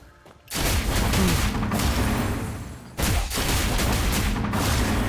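Rapid, dense bursts of game gunfire crackle loudly in two long volleys separated by a brief pause, with booming impacts mixed in.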